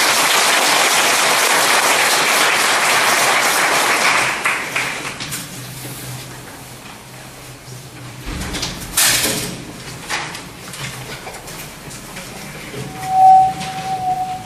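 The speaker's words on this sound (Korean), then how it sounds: "김종환 조합원님을 큰 박수로 환영해 주시기 바랍니다" Loud applause from members at a housing redevelopment union general meeting fills the first four seconds, then breaks into scattered thumps, shuffling and knocks in a large room, with a brief ringing tone near the end.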